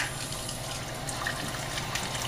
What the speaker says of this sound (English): Then we will turn the aspirator on slowly, and you'll see bubbling